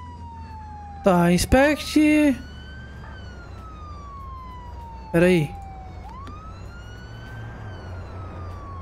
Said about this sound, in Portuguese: Deixa eu só desligar essa sirene.